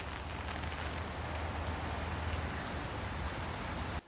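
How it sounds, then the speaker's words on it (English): Steady rain drums on an umbrella topped with an artificial thatch cover meant to dampen the noise, a dense, even patter that continues without a break for about four seconds before stopping abruptly. "what I'm hoping it will do is dampen the rain noise"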